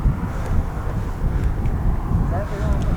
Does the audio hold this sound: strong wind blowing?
yes